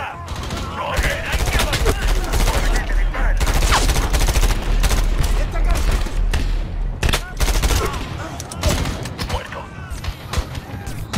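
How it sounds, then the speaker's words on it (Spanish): Heavy gunfire from above in the video game Medal of Honor, a mission rescuing troops at Takur Ghar: loud, dense bursts and booms fill most of the stretch, then thin into scattered shots near the end. "Disparan desde arriba."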